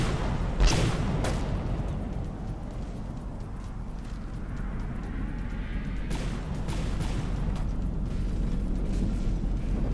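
In the naval combat game From The Depths, a secondary anti-aircraft gun fires with a few booming reports early on, set against a dense, continuous rumble of battle noise.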